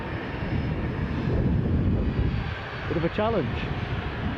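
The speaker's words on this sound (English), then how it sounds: "Incoming Embraer 145 from Exeter" An Embraer 145 arriving from Exeter at Newcastle airport, its steady engine roar filling the background throughout while a nearby voice speaks briefly over it.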